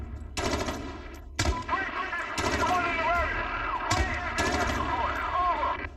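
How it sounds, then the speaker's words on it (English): Bursts of video game gunfire and airstrike explosions crash in loud, sustained volleys with sharp repeated blasts, while a voice speaks over the combat. "Airstrike."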